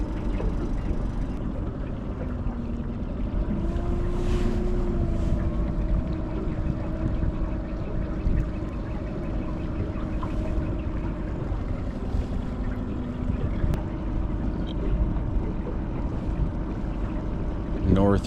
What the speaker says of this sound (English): Quite a few boats out here today.